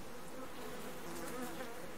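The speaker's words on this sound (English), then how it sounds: "They're killer bees." Killer bees in the survival game Subsistence swarm around a small beehive, giving a steady, droning buzz that stays faint and even from start to finish.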